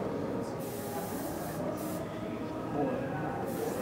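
Paint hisses steadily from an airbrush fed by a small propellant can, a continuous, fairly faint spray held through the whole moment with slight swells, no voice over it.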